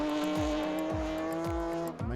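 A 300 hp petrol four-wheel-drive, four-wheel-steer ice racing car at an Andros Trophy round in Andorra, its engine loud and close with rapid rising revs and repeated gear-change dips, plus some tyre squeal on ice.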